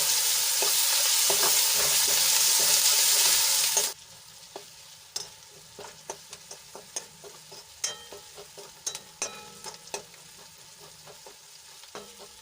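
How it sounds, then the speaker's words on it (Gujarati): Chopped onions fry in hot oil for a cabbage curry, a loud, dense sizzle for the first few seconds that drops to a quieter simmer broken by scattered clicks and scrapes of stirring. "ડુંગળીને સરસ રીતે તેલમાં મિક્સ કરીને ગોલ્ડન બ્રાઉન થાય ત્યાં સુધી આપણે એને ચડવા દઈશું"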